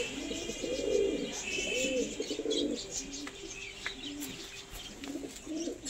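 Several pigeons at a home pigeon sale coo in repeated low, rounded phrases at close range, layered over faint chirps and steady background noise.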